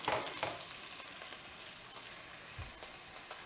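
Andouille sausage sears in a pan with a steady, bright frying hiss, close and even, with a couple of soft bumps as pieces are moved around.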